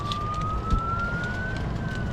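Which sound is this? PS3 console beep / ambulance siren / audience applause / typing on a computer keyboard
ambulance siren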